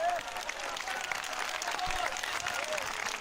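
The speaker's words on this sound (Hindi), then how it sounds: "और मेरे यीशु के लिए इतनी कम तालियां" A revival meeting congregation applauds together, a dense, steady wash of clapping hands filling the hall from start to finish, with a faint voice or cheer rising briefly above the crowd.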